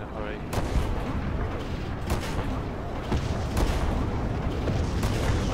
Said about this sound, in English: That is mobile artillery, you want to take that the hell out.